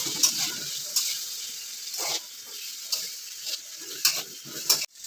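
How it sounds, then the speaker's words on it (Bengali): Soft sizzling of carrots and peas frying in a pan, broken by regular clinks and scrapes of a spoon stirring, several sharp taps spaced about a second apart. "গাজর আর মটরশুটি ভালো করে ভাজা হবে"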